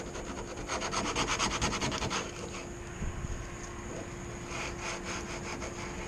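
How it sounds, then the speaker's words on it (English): Hand scuffing of painted hood along a stencil outline, a close, steady rasping rub in quick back-and-forth strokes that slows briefly midway, then resumes more softly. "Just make sure your outline is scuffed."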